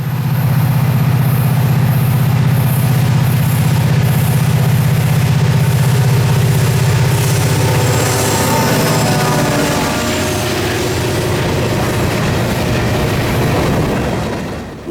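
Heavy 99-car freight train hauled by a single GP38-2 diesel locomotive on the Florida East Coast Railway, a loud deep engine rumble with rolling rail noise that slowly eases toward the end, no voices.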